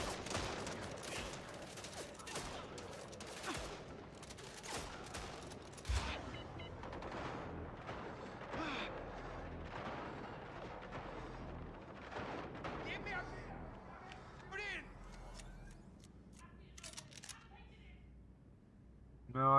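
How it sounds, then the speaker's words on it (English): Gunfire rattles through the MindsEye video game in rapid, dense bursts of shots, loud at first and thinning out later, with a person talking over it. "I guess they were shooting me from the from under the floor"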